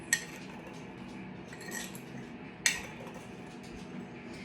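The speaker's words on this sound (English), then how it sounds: "I'm going to use the same spoon I've been using and mix it all in." A spoon stirs a muddy soil-and-water mixture in a container, with faint scraping and a few light clinks against the side, quiet and close.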